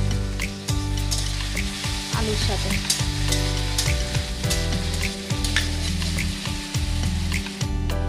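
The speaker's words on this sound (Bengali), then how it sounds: "এবার আমি এর মধ্যে দিয়ে ভালো করে আদা পেঁয়াজটা ভেজে নেব" Ginger and onion paste frying in a pan for a bottle gourd and shrimp curry, a steady close sizzle with repeated stirring scrapes and knocks throughout, a brief voice heard once.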